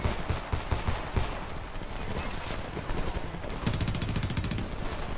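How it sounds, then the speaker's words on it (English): Machine gun fire rattles in Homefront, loud and close, with rapid overlapping bursts forming a continuous barrage that grows denser near the end. "Machine gunners, first floor."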